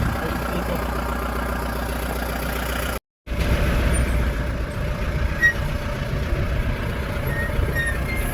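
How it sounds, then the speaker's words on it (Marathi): A large vehicle's engine idling and then revving after a brief silent cut, a steady low rumble with a sharp hiss like an air brake, close and continuous. "गाडी बघा मोठी घेऊन आला"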